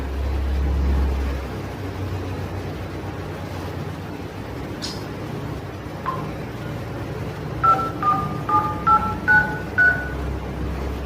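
Touch-tone telephone dialing on a phone, a quick series of about six clear DTMF beeps in an uneven rhythm near the end, preceded by quiet room ambience and a few faint clicks.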